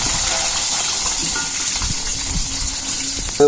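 Eggs frying in a pan in a Bangladeshi village kitchen, a loud, steady sizzle close by, ending with a brief metallic clink.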